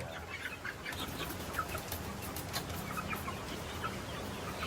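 Free-range village chickens cluck steadily inside a makeshift coop, a dense, continuous chorus of nearby hens with scattered sharper calls and no talk.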